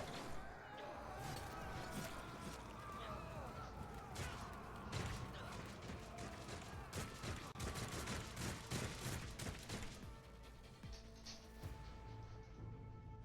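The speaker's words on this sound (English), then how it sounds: "I'm going to try to shoot people with my pistol" Gunfire from a pistol and other weapons in the Warhammer 40,000: Rogue Trader video game, rapid overlapping shots and crashes under a dense, busy game soundtrack, faint overall, with no speech.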